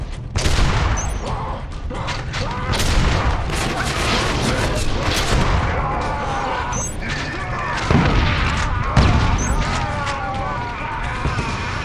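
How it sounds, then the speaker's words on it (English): Gunfire from an incendiary shotgun in the first-person shooter Killzone Mercenary, with repeated heavy blasts and crackling bursts amid dense combat noise, loud and continuous throughout. "a shotgun that lights people on fire"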